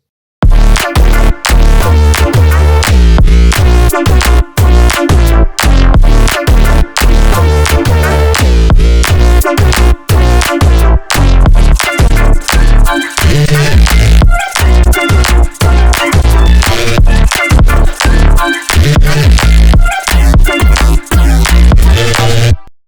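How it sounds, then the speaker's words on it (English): A gritty, melodic drone bass synth lead made in Serum plays a choppy rhythmic riff, its notes cutting off sharply in quick stuttering bursts, loud and up front. "another melodic drone bass synth"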